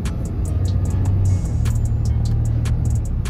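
Diesel pickup truck driven gently on a test drive after a FASS lift pump, sump and fleece delete install, its engine a steady low drone heard from inside the cab with light road noise and no talk.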